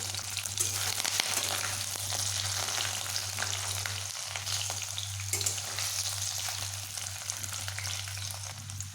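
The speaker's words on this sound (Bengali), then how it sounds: "এইভাবে একটু লাল লাল করে ভেজে নিচ্ছি" Paneer cubes fry in hot oil in a pan as a continuous, dense crackling sizzle, with occasional stirring clicks over a low steady hum. It stays close and even throughout, with no voices.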